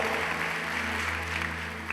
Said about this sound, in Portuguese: uma grande oportunidade de aplaudirmos a Deus pelo que Ele tem feito na vida da irmã Palmira.